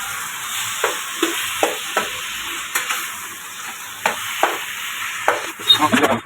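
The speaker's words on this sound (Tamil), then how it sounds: "பீட்ரூட்டை இது கூட நல்லா ஆட் பண்ணி நல்லா வதங்கிக்கணும்." Beetroot being stirred and sautéing in a pan, a soft steady sizzle broken by repeated scraping taps of a spoon against the pan.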